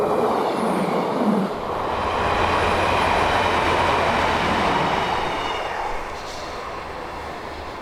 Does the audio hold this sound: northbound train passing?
yes